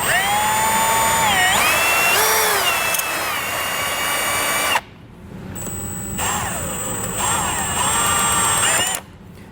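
A power drill zips a self-tapping screw into metal while fitting a Curt T-connector wiring harness on a 2009 GMC Acadia, loud and close, with a steady whine that rises and falls in pitch across two long bursts separated by a brief pause.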